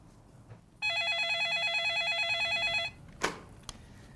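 A telephone on the far end rings once after a number is dialed, giving a single electronic warbling burst lasting about two seconds, followed by a couple of faint clicks and a brief rustle in a quiet room.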